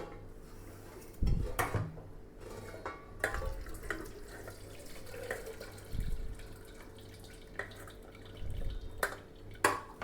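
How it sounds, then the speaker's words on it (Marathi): Water poured off from a cooking pot in a home kitchen, sloshing in a few separate bursts with light clinks of the pot in between, close by and with no talking. "तर आधी हे सगळं पाणी मी काढून घेते"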